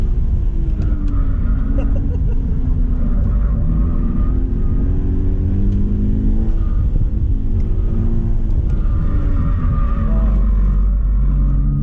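A car runs an autocross course, its engine droning and revving up and down steadily throughout as it brakes and accelerates between cones, heard loud and close from inside the car.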